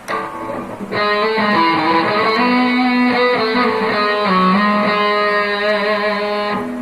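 A distorted electric guitar rings out with sustained, saturated chords and melodic runs, loud and continuous after a brief quiet start, with a warm, rounded tone from the neck pickup position.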